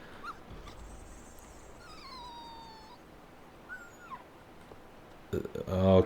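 Inside the video game Blade and Soul, a dog lets out thin, high whimpers and yips in a few drawn-out bursts over low ambient game noise, with a louder clatter near the end.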